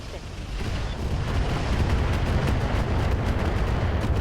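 Mech weapons firing at an enemy in the RogueTech BattleTech mod, a dense, continuous barrage of heavy booms and rapid impacts that builds quickly and stays loud throughout.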